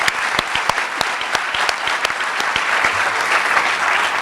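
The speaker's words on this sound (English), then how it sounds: "let's give a applause now" Audience applause at a veterinary school white coat ceremony, a crowd clapping in brisk, overlapping claps that fill the hall steadily from start to finish.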